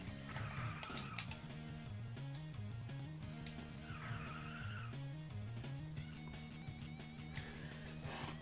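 A car skids and drifts out of control in a racing video game on the SNES, tire squeals and engine drone rising and falling under constant game music and effects.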